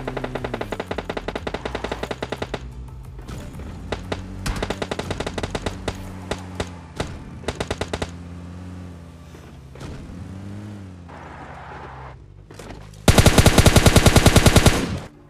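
Rapid automatic gunfire bursts from a PUBG Mobile Lite battle, several loud rattling volleys with short pauses between, ending in a very loud close burst, no talking.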